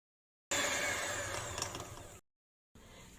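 Electric hand mixer beating cake batter of eggs, vanilla and lemon oil for barquette cakes, a steady whirring drone that runs about two seconds, stops, then starts again close up.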